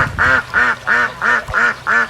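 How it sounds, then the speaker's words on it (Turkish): Ducks quack loudly and close by in a steady series of about six evenly spaced calls, with goose and duck young roaming nearby. "Ördeklerimiz burada, badiklerimiz de sağda solda ve burada geziyorlar"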